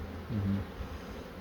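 Honey bees hum steadily inside an opened hive during a colony split, a dense close buzz that stays even throughout.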